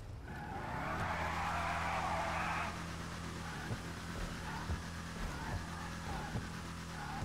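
An Ocelot F620 in GTA 5 drives with a steady engine drone while its tires screech in a long skid, then settles into continuous engine noise with small bumps.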